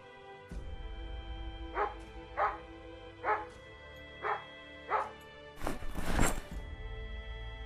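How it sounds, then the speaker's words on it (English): A dog in the zombie survival game Project Zomboid barks five times at a steady, evenly spaced rhythm, followed by a louder burst of noise, the barks clear and moderately close. "Dog barking has not called too many things towards me."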